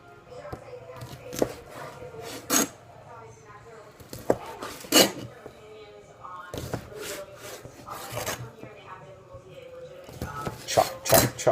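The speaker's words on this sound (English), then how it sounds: "you can just go along and cut off little chunklets." Knife chopping food into small chunks on a cutting board, sharp irregular knocks scattered across the stretch with a few louder cuts, close and clear, with a voice talking between them.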